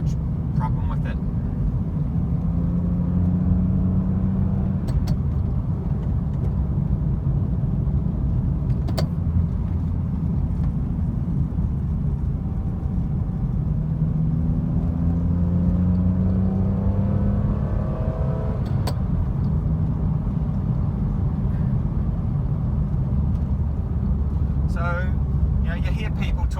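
A BMW E46 M3 fitted with a Samsonas sequential shifter drives along, engine droning and rising through the revs from inside the cabin, with sharp mechanical clunks marking each gear change while someone talks throughout.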